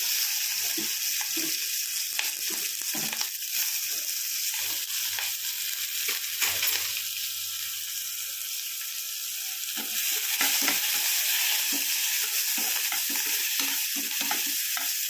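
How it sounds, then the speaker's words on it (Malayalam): Onion, garlic and green chilli frying in a pan with rice grains that have already popped, a continuous loud sizzle with occasional stirring scrapes and no talking. "നമുക്ക് ഉള്ളി ഇട്ട് കൊടുക്കാം ഉള്ളി വെളുത്തുള്ളി പച്ചമുളകും കൂടെ ഇട്ട് കൊടുക്കാം"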